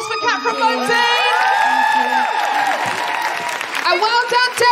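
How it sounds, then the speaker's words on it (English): A live comedy podcast audience bursts into applause, cheers and whoops, loud and close, with high shouted voices over dense clapping that dips and then swells again near the end. "Big round of applause for Kat from Moan Zine."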